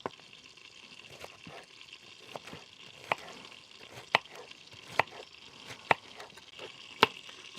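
A knife dices vegetables into small pieces for a sofrito bolognese base, its blade striking the board in steady, evenly spaced chops about once a second, each crisp and close, with a faint background hiss.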